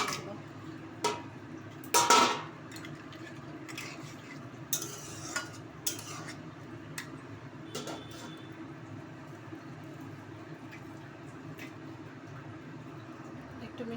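Bori lentil dumplings go into a simmering cabbage curry with a few sharp clinks, then steady stirring scrapes over a constant low bubbling sizzle close by.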